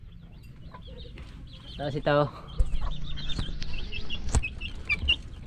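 Chickens, pumpkin hatch crossbreeds, clucking and calling nearby in scattered bursts, with someone talking over them.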